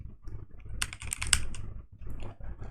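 Typing on a computer keyboard, a quick run of close, crisp key clicks in uneven bursts with brief pauses, heard alone.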